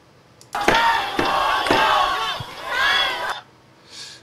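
Protest-rally crowd in Korea denouncing a special prosecutor at a People Power Party event: a loud, massed roar of shouting voices erupts suddenly, holds for about three seconds with surging peaks, then drops away abruptly.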